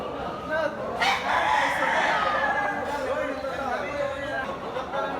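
A bull stag gamecock with blue legs crows and clucks at a cockfighting venue in Cebu, its calls rising over crowd chatter and someone talking nearby.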